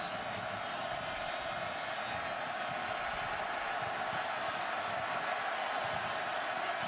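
Roaring crowd of 58,000 at a night college football game between Oklahoma and Oklahoma State, a steady dense wall of noise from a large stadium, continuous and loud.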